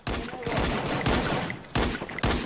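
Rapid bursts of automatic gunfire from the Free Fire battle royale video game, loud and dense, in several sustained volleys with brief gaps between them.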